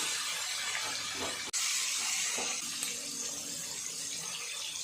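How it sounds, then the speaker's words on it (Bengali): Large pieces of gurjali fish fry in hot oil with a quiet, steady hiss that holds throughout, broken once by a brief click. "মাছের পিসগুলো এত বড় বড়, খুব বেশি মাছ একসাথে দেওয়া যাবে না, অল্প অল্প করে দিয়েই ভেজে নেব"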